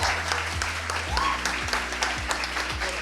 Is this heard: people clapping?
yes